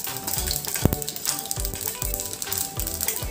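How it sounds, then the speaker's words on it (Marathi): White sesame and poppy seeds sauté in hot oil with a soft, crackling fry. Close, rhythmic scraping strokes of stirring and a few sharp clicks recur across the clip, with no voices. "व हे देखील आपल्याला तेलावरती परतून घ्यायचं आहे."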